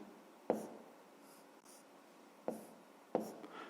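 A pen writing by hand on paper during a fifth-grade math exercise, with soft scratching strokes and three sharper taps, quiet and close in a still room.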